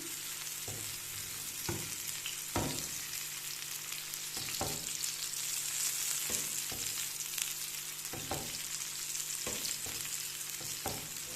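Fish boti tikka pieces fry steadily in a pan over a medium-to-low flame, giving a continuous sizzle with scattered soft clicks and taps throughout.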